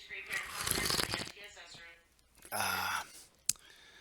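Someone takes a noisy slurping sip of coffee up close, then lets out a short voiced sigh of satisfaction, followed by a sharp click.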